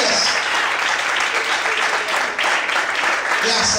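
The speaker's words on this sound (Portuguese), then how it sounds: "Você pode aplaudir ao Senhor? Bem forte as palmas, aleluia." Church congregation applauding loudly, a thick, sustained roar of many hands clapping at close range without letup, with vocal cheers mixed in.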